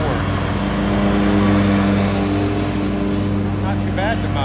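Riding lawn mower with a 48-inch deck running steadily throughout, a loud continuous engine drone with a low harmonic hum that holds even before easing slightly near the end.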